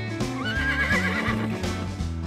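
A horse neighs in one drawn-out whinny, loud and close, its pitch rising and wavering before trailing off, with faint hoof movement underneath.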